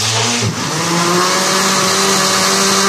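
A blender jug whirs loudly, grinding mango lassi ingredients into a steady high motor whine that dips briefly at the start as the blades bite.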